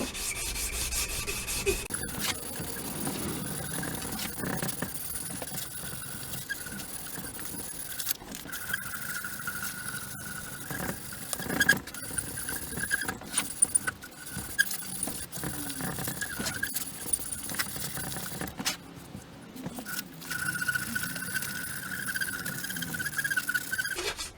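Steady scratchy rubbing of 180 grit sandpaper on oak, continuous back-and-forth strokes at close range with short pauses, no talking.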